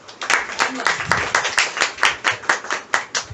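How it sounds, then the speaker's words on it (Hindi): A small audience at a store event claps in a rhythmic, fairly close series of distinct hand claps, roughly four per second, with a brief voice in the background. "एक बार तालियां होनी चाहिए।"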